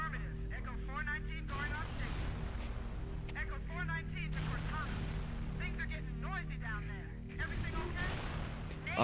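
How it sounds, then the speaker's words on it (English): Booming explosions in Halo CE Anniversary gameplay, three loud broadband blasts spaced a few seconds apart over a steady engine rumble, with players talking throughout. "Oh, everything's fine. It's just loads of explosions."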